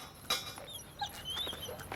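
A dog whimpers and whines in short, thin high-pitched cries against a faint background, close but not loud, with a brief thump at the start.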